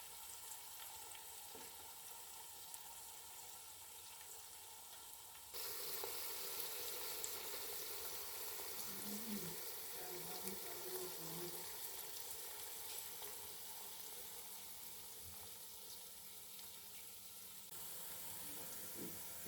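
Sliced onions fry in a pan for a kachnar and meat curry, turning lightly brown, with a steady soft sizzle and hiss that swells partway through and runs quietly without talk.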